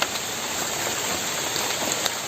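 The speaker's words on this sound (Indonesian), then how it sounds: "Hujan gede." Heavy rain pours down in a dense, even hiss that stays steady throughout, close and fairly loud, with no voices.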